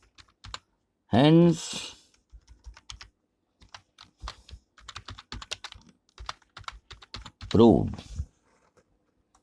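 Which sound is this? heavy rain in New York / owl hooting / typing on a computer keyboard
typing on a computer keyboard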